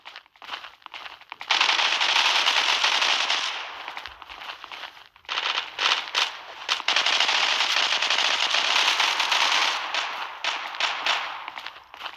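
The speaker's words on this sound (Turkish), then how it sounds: "Duvarın arkasından sıkıyor." Rapid automatic gunfire in the online shooter Zula, loud bursts of rattling shots that stop briefly and start again, sounding fairly close with no talk over them.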